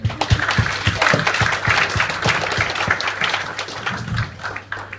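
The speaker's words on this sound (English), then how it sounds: "a round of applause for the bridesmaid" Wedding guests applaud during a best man's speech at a reception, a steady, fairly close round of clapping lasting the full stretch with a dense, even texture and no talk over it.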